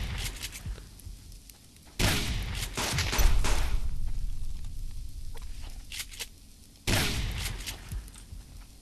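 Gunfire in the PC survival game Subsistence, with sharp rifle shots and a sniping hit: a few loud, sudden bursts separated by quieter stretches, each blast decaying over a couple of seconds.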